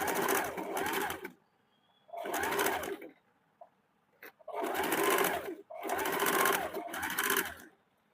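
A sewing machine stitches the hook section of a blouse in four separate bursts of close, rapid whirring, with quiet pauses between them and a faint click or two.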